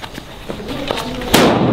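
Diwali firecrackers burst outdoors in quick succession, several sharp cracks and pops ending in one loud close bang with a crackling tail.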